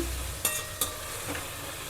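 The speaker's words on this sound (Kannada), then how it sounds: "ನಾವು ಬರೀ ಟೊಮೊಟೊ ಅಷ್ಟೇ ಇದನ್ನು ಚೆನ್ನಾಗಿ ಫ್ರೈ ಮಾಡ್ಕೋಬೇಕು" Tomatoes fry in a pan for coriander dal sambar with a soft, steady sizzle, and two sharp spoon scrapes come early, close and fairly quiet.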